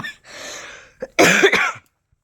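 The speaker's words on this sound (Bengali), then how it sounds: "গলা খুসখুস করছিলো আর কাশি হচ্ছিলো বারবার" A person coughs close to the microphone: a short cough, a brief pause, then a louder, harsher burst of coughing with a throaty edge that stops abruptly.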